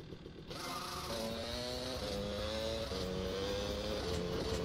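A motorbike engine in the Grand Theft Auto Vice City Definitive Edition video game drones steadily during a chase, its pitch shifting up and down with the throttle under loud, continuous road noise.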